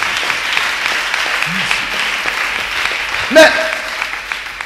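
Church congregation applauding, a steady wash of clapping from many hands in a large room, moderately loud throughout, with a voice cutting in briefly near the end.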